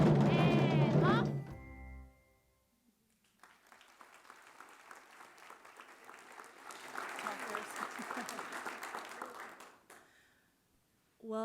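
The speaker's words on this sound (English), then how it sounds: "Give yourselves a round of applause." Audience applause at a school board good news and recognitions meeting, a speaker's voice opening the clip, then a steady mid-level spread of clapping for about six seconds before it fades out.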